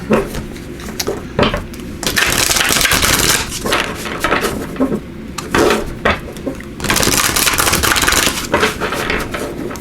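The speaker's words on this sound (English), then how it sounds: "let me give these a quick shuffle as well" Tarot cards shuffled by hand during a card reading, a dense, close riffling and rustling in sustained bursts with brief pauses between them and no voice.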